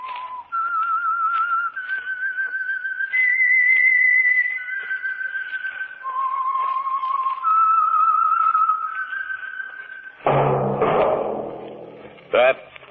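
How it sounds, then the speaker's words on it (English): A single person whistles the slow, eerie theme melody of the 1948 radio drama The Whistler alone, clear and close, with long held notes stepping up and down. A brief thud and rustle follow near the end. "That whistle is your signal"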